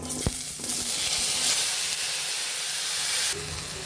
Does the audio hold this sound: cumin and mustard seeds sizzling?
yes